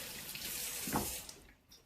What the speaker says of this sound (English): So I'm washing my hands here.